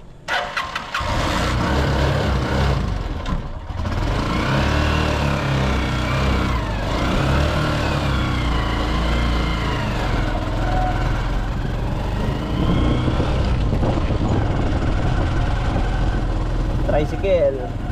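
Motorcycle tricycle engine starting up and then running at idle with occasional revs, a close, rough, continuous rumble under people talking.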